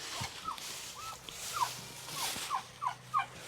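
A heritage turkey gobbles in a series of short warbling calls, several rapid bursts spaced across a few seconds, fairly close inside a hoop house with a faint rustle underneath.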